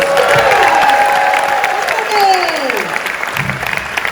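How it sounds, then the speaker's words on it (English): A reunion audience at a school centennial anniversary show breaks into sustained applause and cheering, loud and continuous, with voices whooping and calling out over the clapping. "Cue applause."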